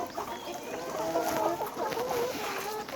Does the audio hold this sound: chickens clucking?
yes